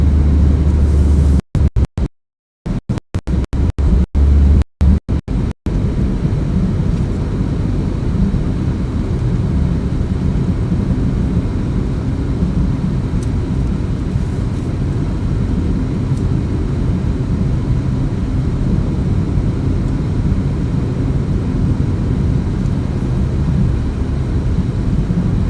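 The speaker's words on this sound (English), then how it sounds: "A little 4-cylinder Toyota that could." A small 4-cylinder Toyota car engine strains under load while driving uphill, a steady loud low drone that holds continuously throughout after a few brief dropouts at the start.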